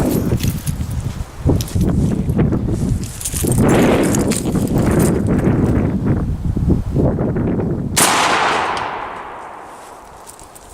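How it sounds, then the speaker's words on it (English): A Savage 12 gauge tactical shotgun fires Suprema double aught buckshot at a 3/8-inch steel plate: one loud, close blast rings out and decays slowly, after a stretch of busy outdoor noise and shuffling. "Suprema double aught buck out of the Savage 12 gauge tactical."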